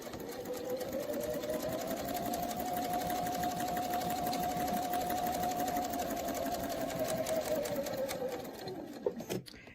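A sewing machine runs steadily while stitching a quilt block, a close, continuous even whir that holds for about nine seconds before slowing and stopping at the end.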